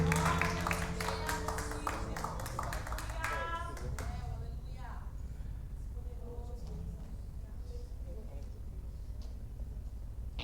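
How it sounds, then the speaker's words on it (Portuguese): Church congregation clapping along with music, rhythmic claps loud in the first four seconds, then thinning to scattered claps under lingering sound of the service. "Aplauda ao Senhor."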